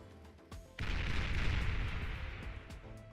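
A large explosion goes off in the real-time strategy game Beyond All Reason: a sudden loud boom with a long rumbling roar that slowly fades, preceded by a smaller pop and followed by a few scattered faint impacts.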